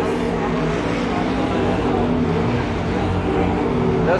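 Sprint cars of the Carolina Sprint Tour dash race circle Carolina Speedway on the final lap. A continuous loud engine roar rises and falls as the cars pass, with faint crowd noise and public-address voices underneath.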